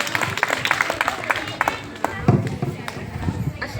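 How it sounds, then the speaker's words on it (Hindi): Audience clapping to welcome a singer onstage at an Independence Day event, a busy run of handclaps mixed with an announcer's voice and crowd noise. "जोरदार तालियों के साथ इनका स्वागत"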